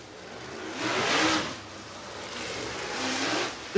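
A short-track race car at Talladega Short Track pulls onto the speedway, its mid-pitched engine swelling as it passes, easing off, then building again, fairly close and with no talk over it.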